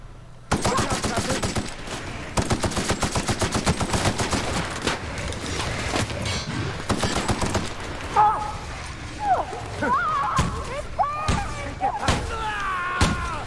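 Rapid automatic gunfire from the video game The Outer Worlds, loud bursts rattling in quick succession for several seconds, then breaking into scattered single shots and thuds mixed with softer in-game sounds.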